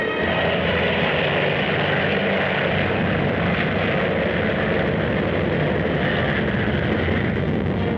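A super speedy 1941 Army fighter plane with a cannon in its nose roars past, a loud continuous propeller engine drone that holds steady for the whole stretch, with no talk.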